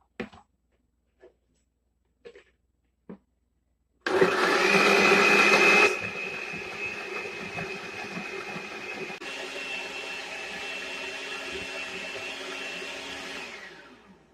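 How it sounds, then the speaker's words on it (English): A few soft clicks and taps come first, then a blender switches on loudly, grinding almonds with water into almond milk, its motor whining steadily and dropping slightly in pitch as it settles before winding down. "Now I'm gonna blend so I can make almond milk"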